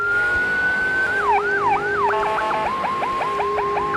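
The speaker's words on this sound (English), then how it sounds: "it does have fully working sirens." An emergency vehicle siren in the Greenville game, starting with a long rising wail, then switching to faster yelps and rapid repeating whoops, loud and close.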